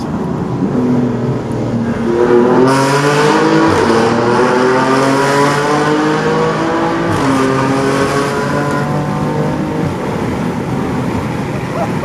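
A BMW M4 with resonated catless downpipes roars and revs hard in a tunnel, pitch climbing through several gear shifts, echoing, sustained throughout with no talking.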